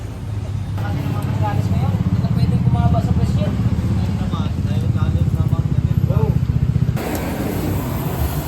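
Motorcycle engine fitted with a silencer muffler idling and running steadily with a low, throbbing drone, its pulsing rumble continuous throughout, while someone talks over it nearby.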